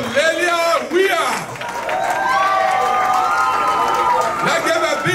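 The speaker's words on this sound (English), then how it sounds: "Let's give a big hand clap to Lelia Weir." Audience at a convention grand ball clapping and cheering, a loud crowd swell with shouts and whoops, a voice over a microphone and other voices mixed into the applause.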